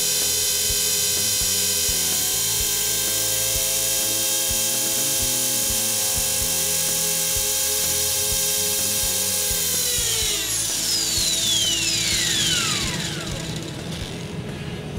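A Trex 450 RC helicopter runs at half throttle with a steady, close, continuous whine and layered harmonic drone, then its pitch sweeps downward near the end as the rotor speed changes.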